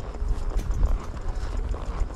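A mare on a farm walks with a steady clip-clop of hooves, close and continuous over a low rumbling background.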